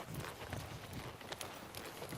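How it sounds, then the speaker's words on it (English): A horse trots slowly on a riding lesson, hooves clip-clopping in a soft, shuffling rhythm amid faint, fairly quiet outdoor background noise. "He's just shuffling along there in a little kid's horse trot."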